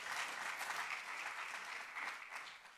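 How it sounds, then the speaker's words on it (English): An audience at a startup demo day claps in a steady, even round of applause that fills the whole moment, sounding somewhat distant and soft. "can we get one more round of applause for Eric and Margot?"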